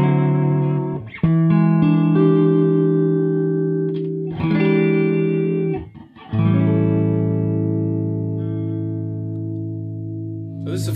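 A replica Anderson Mad Cat Prince electric guitar plays on a clean amp setting, sustained chords ringing out loud and full with long sustain, brief pauses between strums, no voices.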